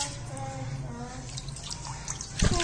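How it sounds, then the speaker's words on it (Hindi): Eggplant is rinsed under running tap water, a close, steady trickle and splash that ends with a brief louder thump and splash. "एक बार बैंगन को धो देंगे अच्छे से"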